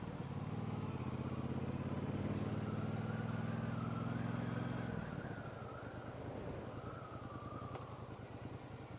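A 2022 Triumph Bobber motorcycle cruises along with a steady, close engine drone and a rushing wind roar, holding an even pitch for several seconds and then slightly easing off.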